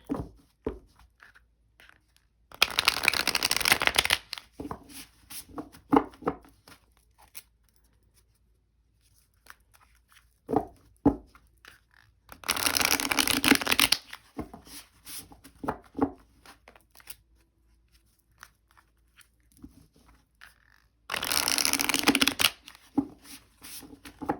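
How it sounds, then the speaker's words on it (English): A tarot card deck is shuffled in three bursts of loud, crisp riffling, each lasting a couple of seconds. Quiet gaps between the bursts hold soft taps and card handling. "Now I'm going to clarify with this tarot deck here."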